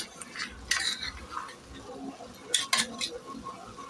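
A spoon scrapes and clinks in a pan while chicken paste cooks down for mixed chops, soft stirring with a few sharper metallic knocks over a faint sizzle; no talking.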